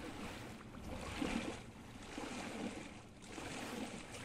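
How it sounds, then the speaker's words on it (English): Running water in the flooded tiled halls of a Poolrooms Backrooms horror game, a soft, continuous rushing and lapping with gentle surges, low in level and without speech. "did you guys hear running water for a second?"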